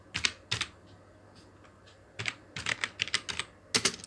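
Fingers type on a computer keyboard in short bursts, a quick pair of keystrokes, a pause, then a rapid run of clicks and a final flurry, crisp and close with no voices.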